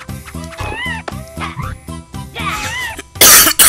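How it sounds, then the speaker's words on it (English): Harsh, close coughs explode into a microphone from someone recovering from a cold, several in a row, with a long hoarse throat-clearing stretch in between and a loud final burst near the end, all over ongoing video game music. "Sorry for coughing into the mic."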